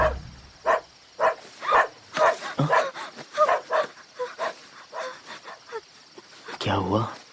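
A dog barks in a rapid series of short, sharp yips and woofs, close and fairly loud, with a brief whimpering sound near the end.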